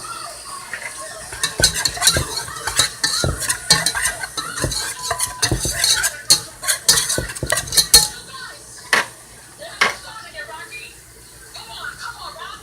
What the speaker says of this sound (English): When you hear it kind of start sizzling and cooking